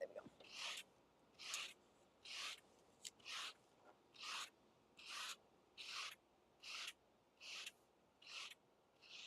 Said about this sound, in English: sweet fur brushing ASMR. Sounds real nice.